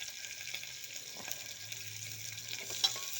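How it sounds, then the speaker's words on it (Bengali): Fried garlic and slit green chillies are stirred in a kadai for a country chicken curry, giving a faint, steady sizzle broken by light scraping strokes. "দুটো কাঁচা লঙ্কা আমি ফাটিয়ে রেখেছি, ওটাও দিয়ে দিচ্ছি। ভালো করে আমি এখন নেড়ে নেব।"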